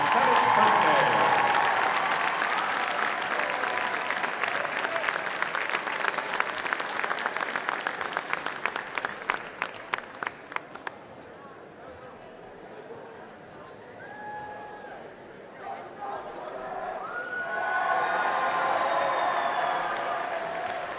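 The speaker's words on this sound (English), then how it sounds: "give Max a round of applause on his 97th birthday" A crowd applauds loudly at a high school basketball game in Midland honoring a World War II veteran's 97th birthday, the clapping fading into scattered claps and then chatter.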